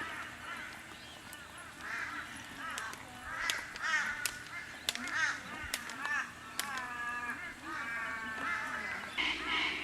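Crows and parrots call repeatedly in an Australian park among eucalyptus trees near the sea, with loud harsh squawks and caws close by, bursting irregularly over a bird-filled outdoor background.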